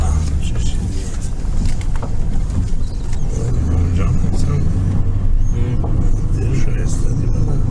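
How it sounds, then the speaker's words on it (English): Armored Toyota Land Cruiser drives along with a steady low engine rumble and road noise heard from inside the cabin, continuous and fairly loud, with quiet voices murmuring over it. "We're driving in a armored Land Cruiser."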